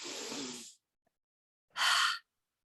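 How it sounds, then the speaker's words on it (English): Two separate breaths: a long breathy exhale through the mouth, a pause of silence, then a shorter, sharper airy breath in through the nose, close and clear. "it's an inhale through the nose and an exhale through the mouth"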